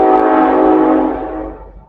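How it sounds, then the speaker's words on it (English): A train passes through a small town near two road crossings, its horn blaring loud and sustained with steady rail rumble beneath, the sound fading toward the end as it moves away. "Trains are coming."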